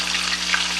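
Bacon sizzles and crackles in a frying pan with a steady, close hiss, loud and uninterrupted for a brief moment with no talking.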